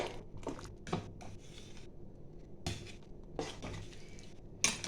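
A spoon stirs khichuri in a cooking pot, making scattered scraping and clinking knocks in uneven bursts with quiet gaps between them, close and fairly soft.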